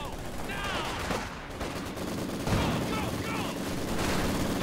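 Gunfire from Company of Heroes 2 crackles in dense bursts: machine gun rattles and scattered shots, with a heavier boom midway. Players talk over the battle sounds throughout.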